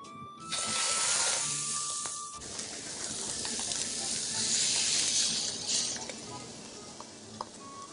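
A chicken steak sizzles in oil on a grill pan, a steady close hiss with occasional small pops and utensil clicks, lasting throughout.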